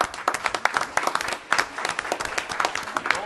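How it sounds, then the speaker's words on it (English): A room of attendees at a town council meeting gives a birthday round of applause, a dense, continuous wash of many hands clapping at moderate loudness with a faint voice or two underneath. "Can Yes. we give her a round of applause?"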